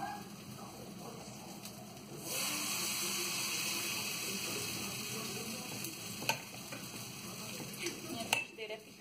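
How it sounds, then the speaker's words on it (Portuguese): Beef steak frying in lard in a home kitchen pan, a steady broad sizzle that swells loudly after the first couple of seconds and holds, with occasional clinks and faint thumps over it. "Agora eu vou fazer aqui e vou fritar o bife"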